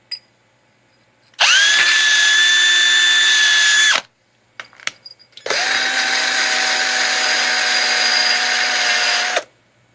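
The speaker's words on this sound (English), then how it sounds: "use what little battery life we got left on our drill here." A cordless drill spinning a cleaning attachment against a Volvo 164E thermostat housing on a 50-year-old car: two sustained high whirring bursts of about two and a half and four seconds, separated by brief clicks and handling noises, loud and close.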